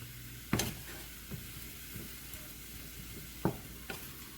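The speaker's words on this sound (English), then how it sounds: "We're just going to stir it around like this and cook it until" A pan of food for honey-glazed salmon sizzles quietly while being stirred, with a few sharp scraping knocks of the utensil against the pan standing out over the steady hiss.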